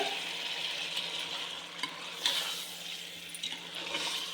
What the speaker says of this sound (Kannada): ನೀಟಾಗಿ ಇದನ್ನು ಮಿಕ್ಸ್ ಮಾಡ್ಕೊತ ಒಂದು 5 ನಿಮಿಷ ಬೇಯಿಸ್ಕೊಳ್ಳೋಣ